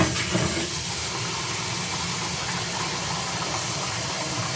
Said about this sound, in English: And run a little bit of water on it.